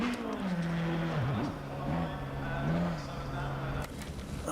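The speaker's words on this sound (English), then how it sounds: "Ferrari sound." A steady, high-revving Ferrari race car engine in a racing video game drones continuously, its pitch dipping and rising slightly as it shifts, with game-like engine tone throughout.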